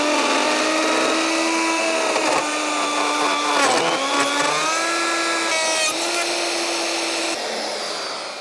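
A router bit cutting, its bearing slightly smaller than the collet and rubbing inside it: a loud, steady high whine with shifting pitch and brief scraping bursts, running alone and fading at the end.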